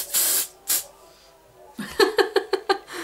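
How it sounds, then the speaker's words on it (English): Two short hissing bursts of aerosol hairspray, followed by voices and light laughter. "Hold the can 30 centimetres from your head, spray in short bursts generously"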